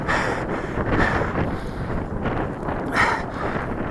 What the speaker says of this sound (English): Now it's getting up more to 40, 50 kilometer an hour winds.